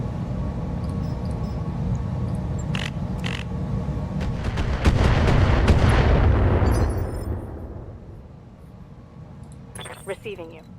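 Missile fire from mechs in RogueTech, a rumbling barrage with sharp clanking hits that swells to a loud roar midway and then fades, with a voice speaking over it.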